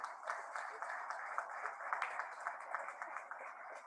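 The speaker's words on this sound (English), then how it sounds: "Let's have a warm round of applause for all our Padma doctors" Audience applause at a doctors' conclave in India, a steady dense wash of many hands clapping from a large crowd, moderately distant and fairly quiet throughout.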